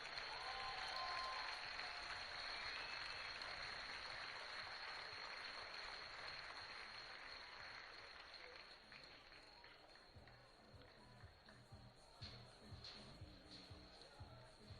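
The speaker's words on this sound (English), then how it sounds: "big round of applause to South Africa's captain of the day, Sam Mvimbi, on his 27th birthday." A crowd at an international men's hockey test match between South Africa and the Netherlands, held at Hartleyvale, gives a sustained round of applause that slowly fades, with some voices audible in the background.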